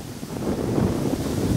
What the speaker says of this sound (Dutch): Ja, het waait echt ziekelijk uit.